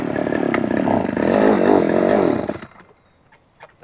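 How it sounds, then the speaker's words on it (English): A gas-powered motobroque earth auger drills post holes on a Portuguese farm, its small engine buzzing loud and close for a couple of seconds before winding down into quiet. "this is basically going to drill the little holes for the posts"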